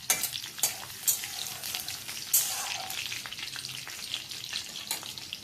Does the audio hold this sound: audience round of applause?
no